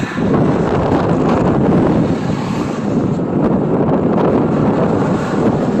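Strong wind buffets the microphone on an early-1900s bridge over the Reversing Falls in Saint John, New Brunswick, as a loud continuous roar with no voice.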